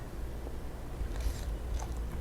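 Someone bites into stir-fried okra with oyster sauce, a few soft, close crunching bites and chews, quiet and brief.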